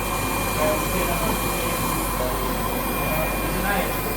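Suction compressor of a dental unit at a community health clinic, running as a steady, loud, broadband mechanical whir throughout, with faint talk underneath.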